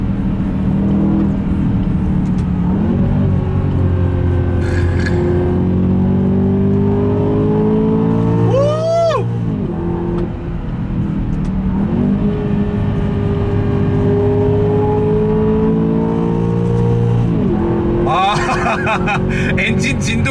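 An Aston Martin DBX engine drones and revs while driving, pitch rising and falling through gear changes with crackles of exhaust popping between pulls, loud and close from inside the cabin.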